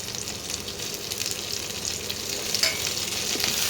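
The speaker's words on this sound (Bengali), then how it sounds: "পেঁয়াজের কালারটা চেঞ্জ হয়ে গেছে, এবারে আমি টমেটো কুচিটা দিয়ে দেবো।" Chopped tomato goes into a pan of onions already frying, setting off a steady, fairly loud sizzle with stirring scrapes and small crackles throughout.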